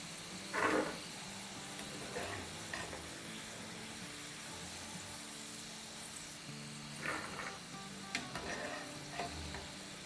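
Potato pieces for aloo chaat sizzle and fry steadily in hot oil, with occasional stirring scrapes and clinks of a utensil against the pan, no voices.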